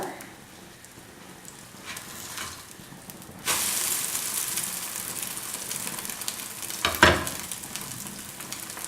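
Soft sizzling of a jackfruit omelette in a covered pan, then a sudden louder burst of frying as it is flipped that stays bright, with a short metallic clink near the end.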